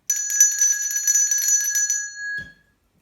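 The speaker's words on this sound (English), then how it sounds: "This one is a bell and it makes this sound." A handheld bell used as a musical instrument rings with rapid bright strikes for about two seconds, then its tone decays and a soft thump closes the sound.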